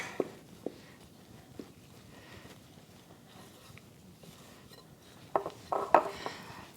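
Homemade noodle dough mixture being stirred by hand in a bowl, with scattered soft scrapes and clinks of utensil on dish, a few sharper knocks near the end, close and fairly quiet.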